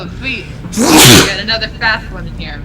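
A sneeze bursts out among a group playing a tabletop roleplaying game, loud and brief, with people talking before and after it.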